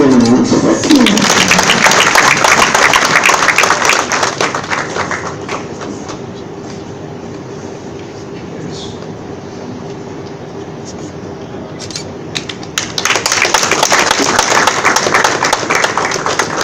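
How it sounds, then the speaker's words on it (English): Graduation audience at BlueCrest College bursts into a round of clapping that fades to a quieter lull with a faint hum, then swells again into a second loud burst near the end. "Let's give them a round of applause."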